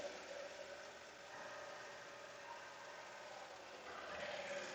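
A Melco embroidery machine sewing, a steady quiet mechanical whir and hum with a fast even stitching rhythm running continuously and unbroken.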